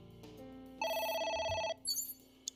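A telephone rings inside the video game AI: The Somnium Files, a bright electronic trill lasting about a second, fairly close and clear over a quiet low background, followed by a couple of short chirps.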